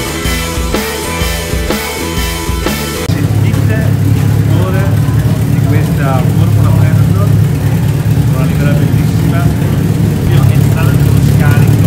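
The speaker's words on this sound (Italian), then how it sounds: "qua si stanno scaldando i motori" Formula Predator race car engines idling in the pit lane at the Varano circuit: a loud, steady low rumble sets in after a few seconds of louder sound and runs continuously, with voices in the background.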